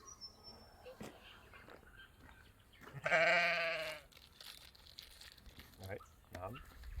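A single loud sheep bleat rings out for about a second amid faint rustling and soft background voices, with quieter movement noises before and after.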